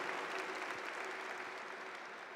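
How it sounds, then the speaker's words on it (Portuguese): A church congregation applauds in a steady, dense wash of clapping that holds at an even level from start to finish, with no voices standing out. "Isso, aplauda com força a palavra de Deus."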